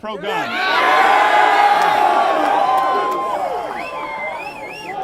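A lively crowd cheering, whooping and shouting loudly at a debate on guns and socialism, many overlapping voices swelling then tapering, with individual whoops rising above.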